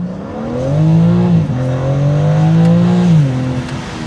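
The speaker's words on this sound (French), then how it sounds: "je vais accélérer un petit coup pour que tu te rendes compte un peu en termes sonores. C'est parti, on accélère." A BMW M3 Competition rated at 510 hp revving hard as it accelerates, heard from inside the car: a loud, close engine note climbing in pitch, dipping briefly at a gear change, then rising again.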